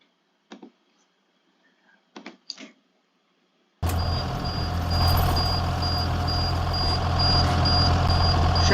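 A Blue Bird school bus with a Caterpillar C7 diesel engine starts up after a few faint clicks, then settles into a loud, steady close-up idle with a constant drone and a high whine.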